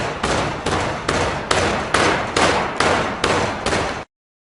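A rammer packs sand tightly into a sand casting flask box, about eight heavy thuds at a steady pace of roughly two per second, each followed by a gritty scraping rustle, close and loud.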